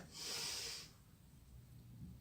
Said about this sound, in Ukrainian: Носиком вдихаємо і затримуємо дихання.